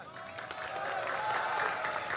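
An audience at a religious lecture claps steadily, a dense even wash of applause across the whole stretch, with faint voices mixed in.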